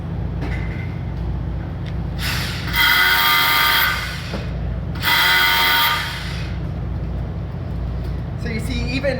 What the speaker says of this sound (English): that's the standard way of drilling holes overhead right now